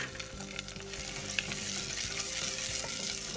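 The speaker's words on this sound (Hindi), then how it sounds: "अब हम इसमें लहसुन डाल देंगे और साथ ही साथ हम इसमें टमाटर डाल देंगे" Garlic and tomatoes hit a pan of browning onions, giving a steady close sizzle and fry with small stirring clicks throughout, no voices.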